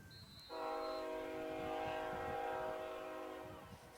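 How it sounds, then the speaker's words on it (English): A passing train sounds a long, loud horn blast lasting a few seconds, then fades, heard from some distance outdoors near a high school soccer field. "train."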